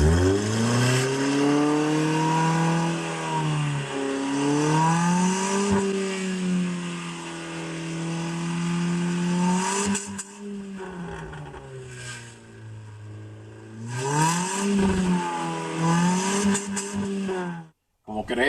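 A smoking car engine revs repeatedly, its pitch rising and falling in long sweeps and holding at a steady idle between surges.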